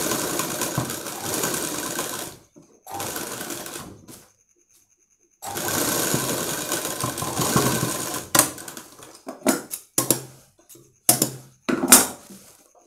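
A sewing machine stitches a frock in a tailoring shop, running in long steady bursts with brief pauses, then breaking into a series of short, sharp stitching spurts near the end.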